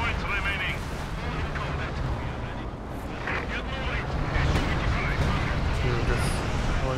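An artillery barrage in the Company of Heroes video game on the Essen Steelworks map, a steady roll of distant booms and blasts that runs continuously, with players talking over it.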